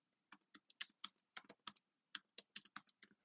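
A password is typed on a Mac keyboard in quick, crisp keystrokes, close and clear, in two bursts separated by a brief pause, with no talk.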